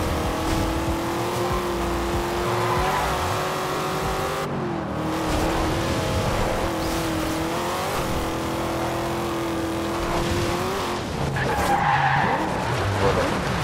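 A heavy car in the Forza Horizon 2 racing game roars and revs while its tires skid and squeal repeatedly, loud and continuous with brief shifts in pitch.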